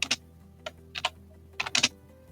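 A search is typed on a computer keyboard in short bursts of crisp, close keystrokes with brief pauses between clusters, and no voices are heard.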